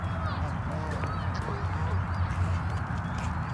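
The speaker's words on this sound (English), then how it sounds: "Look at these ducks." Ducks at a park give faint, scattered quacks and honks under steady outdoor background noise, and a person talks nearby.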